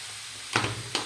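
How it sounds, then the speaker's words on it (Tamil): Chicken frying in oil with turmeric gives a soft steady sizzle, broken by two short bursts of louder crackling as the pieces are stirred or moved in the pan. "இப்போ நம்ம சிக்கனை போட்டுடலாம். தீ வந்து சன்னமாக வச்சுக்கோங்க. இந்த எண்ணெயிலேயே தான் நல்லா வேகணும்."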